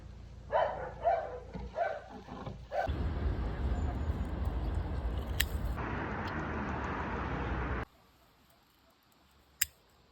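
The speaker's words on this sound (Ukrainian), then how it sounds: "собаки гавкають, генератори гудуть" Dogs yelp and bark a few times early on at moderate distance, before a steady loud hiss takes over, followed by near quiet and a sharp click.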